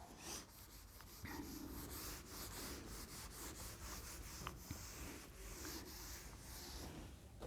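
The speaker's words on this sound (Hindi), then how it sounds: "इसको रब कर देते हैं हम।" Writing is rubbed off a board with steady scrubbing strokes, a close, continuous raspy rubbing sound with a repeating back-and-forth rhythm, alone and without speech.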